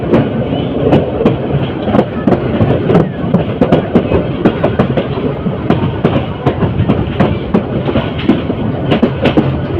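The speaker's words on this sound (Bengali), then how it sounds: "তিতাস এটা ট্রেনটি টঙ্গী রেলওয়ে জংশনে এসে যাত্রা বিরতি দিয়েছে" The Titas Commuter train rolls into Tongi railway junction with loud, steady clickety-clack from wheels over rail joints and a continuous rumble, heard close up.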